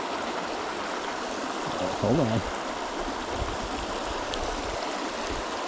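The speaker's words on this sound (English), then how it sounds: "But this one is a brook." A small brook flows steadily in Yellowstone, a constant broadband wash of running water close by, with a brief spoken voice midway through.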